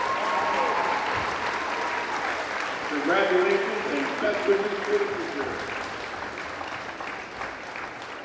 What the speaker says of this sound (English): Please give one more round of applause for our graduating seniors